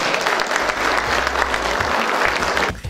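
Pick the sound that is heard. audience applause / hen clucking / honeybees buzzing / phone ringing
audience applause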